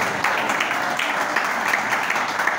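A congregation claps together in a dense, lively burst of applause that fills the room without letup.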